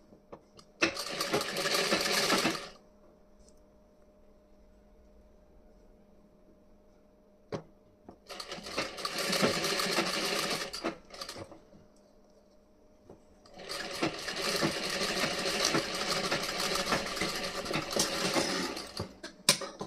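A sewing machine stitches the front part of a blouse in three separate runs, each a close, brisk whirring burst of a few seconds with quiet pauses and small clicks between them.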